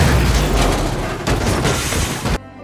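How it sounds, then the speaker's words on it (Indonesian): A powerful gunshot from the film Kin booms loud and dense, with a heavy low rumble and crackling spread that holds for about two seconds before cutting off sharply. "sebuah tembakan dahsyat yang dilepaskan oleh Eli"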